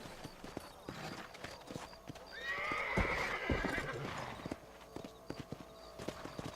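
In the Red Dead Redemption video game, a horse clip-clops at a walk with steady hoof thuds, then lets out a loud whinny in the middle, with faint speech nearby.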